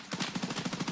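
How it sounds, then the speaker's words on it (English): Rapid, evenly spaced gunfire from a video game rattles out as a quick automatic burst, loud and close, with no talk over it. "Shoot him if you can."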